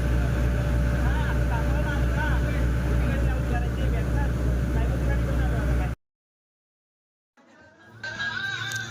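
Ferry boat on the Konkan coastal route carrying vehicles, its engine giving a loud steady drone that cuts to silence, then resumes more quietly with voices.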